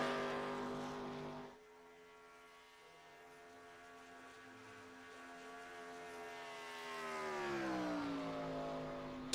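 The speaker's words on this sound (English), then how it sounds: "You can hear the crowd roaring over the engine." Race car engine howling through a pole qualifying lap at Daytona Beach in a Firecracker 400 sim race, a loud sustained harmonic drone that drops briefly then climbs in pitch as the car accelerates, with no talk.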